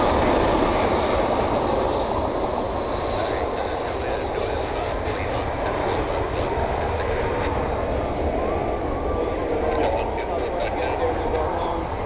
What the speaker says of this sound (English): Another unique aircraft, JetBlue A320 inbound from Boston.